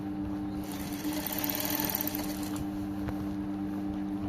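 A sewing machine stitching a garment seam, running from shoulder downward on a dress with golden soutache trim: a steady close mechanical whir with rapid rhythmic needle chatter, swelling slightly in the middle, with no talking.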